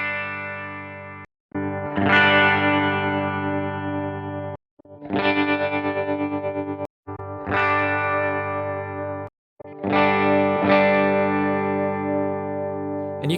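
Distorted electric guitar phrases through an amp simulator, with heavy chorus and effects, played in four sustained bursts separated by brief silences.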